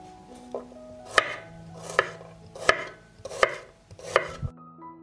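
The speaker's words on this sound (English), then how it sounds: "will mince 1 head of garlic" A knife chops garlic on a cutting board in five evenly spaced, sharp, close thuds, with no talking.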